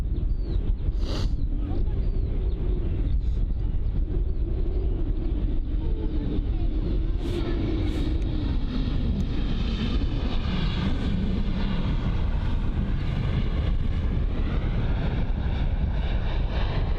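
An Airbus A320neo jet arriving at London Luton airport gives a steady loud engine roar under heavy wind buffeting on the microphone, with a voice briefly talking over it.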